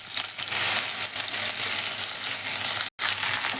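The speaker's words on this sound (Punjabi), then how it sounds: "ਓਇਲ ਆਪਣਾ ਗਰਮ ਹੋ ਗਿਆ ਆਪਾਂ ਜੀਰਾ ਬਾਅਦ 'ਚ ਪਾਵਾਂਗੇ ਪਹਿਲਾਂ ਆਪਾਂ ਇਹਨਾਂ ਨੂੰ ਪਾਵਾਂਗੇ ਭਿੰਡੀਆਂ ਨੂੰ" Chopped okra (bhindi) sizzling in hot oil in a home kitchen pan, a loud, close, continuous crackling hiss with a brief cut near the end.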